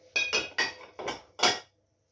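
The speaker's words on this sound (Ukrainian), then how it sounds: "висипаю сюди ізюм, перемішую" Sugar and raisins are stirred in a bowl for baked apples with rice, giving five distinct clinking scrapes of a spoon against the bowl in an uneven rhythm before it falls quiet.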